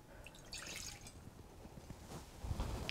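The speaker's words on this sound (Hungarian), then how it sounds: "Fogunk egy edényt, és az előkészített megint másfél deci vörösbort beleöntjük." Red wine poured from a prepared measure into a pot in a home kitchen, a soft liquid trickle with dripping and splashing, steady and close, with a few light knocks of the vessel near the end.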